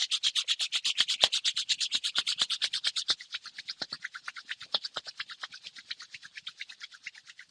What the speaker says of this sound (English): bring your palms together in front of your chest and rub your palms